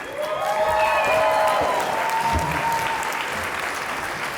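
An audience applauds as a speaker takes the stage at an insurance business event, steady full clapping from a crowd throughout, with a voice calling out over it near the start.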